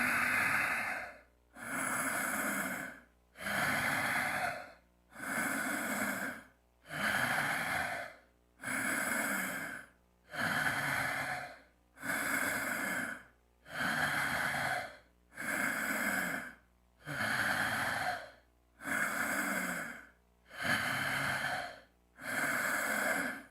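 Deep, slow breaths during a tai chi meditation exercise, about a dozen long rhythmic inhale-exhale cycles with brief pauses between them, close and fairly loud, no talking.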